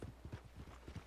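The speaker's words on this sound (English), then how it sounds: "My horse!" A horse's hooves clip-clop in Red Dead Redemption 2, a brief run of quick, muffled hoofbeats, fairly faint and close.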